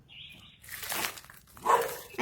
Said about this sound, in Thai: หมาเห่าอะ